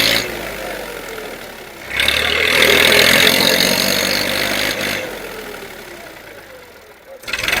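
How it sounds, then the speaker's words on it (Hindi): A tractor on farmland strains to pull a loaded trolley free, its loud, close engine surging to a hard roar, holding there, then easing off before another rev at the end. "ट्रैक्टर जो है ट्राली नहीं निकाल पा रहा है।"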